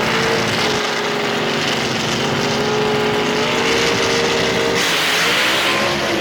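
Gasser drag race cars roar down the strip at Mooresville Dragway, a loud sustained engine blare with rising pitch as they accelerate hard, continuous and close, with no talking.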